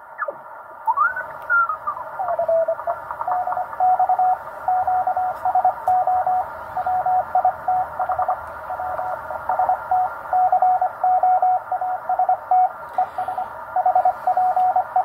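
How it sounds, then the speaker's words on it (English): CW Morse code signals on the 20 meter amateur band come through a receiver as steady on-off tones over a hissy noise floor, with a brief swooping tuning sweep at the start and then rhythmic keyed beeps throughout. "So let's have a quick listen through 20 meters CW."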